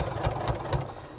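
A sewing machine stitches across a tote bag made from the Wesley pattern, giving a steady mechanical hum with rapid rhythmic needle pulses at close range and no talk.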